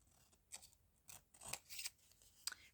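Scissors trim paper for a handmade faux seed packet: several close crisp snips and rasping cuts in a quiet room, with no talking.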